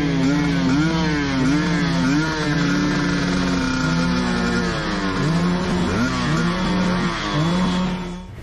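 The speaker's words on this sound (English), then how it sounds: "the motorcyclists managed to scare the bear away with their engine noise" Several motorcycle engines on a wild road where riders met an agitated bear, revving loudly and close in rising and falling whines that overlap for several seconds before easing off at the end.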